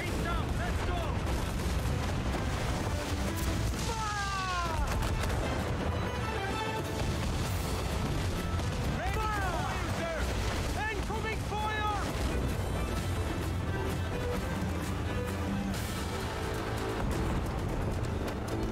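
Heavy naval cannon fire and booming explosions roar continuously during an Assassin's Creed IV Black Flag sea battle in the Caribbean, dense and loud, with whooshing projectiles mixed into the din.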